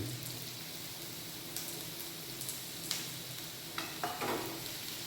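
Onions fry in a pan for a curry with a soft, continuous sizzle, broken by a few light stirring scrapes and clinks near the end. No one speaks.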